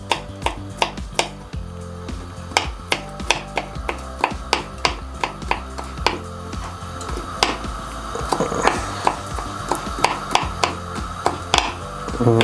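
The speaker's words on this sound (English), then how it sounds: "So now we're just going to finely chop this." Knife finely chopping peeled vegetables on a board while preparing chilli con carne, a run of crisp, irregular taps, close and clear, alone without talk, quickening toward the end.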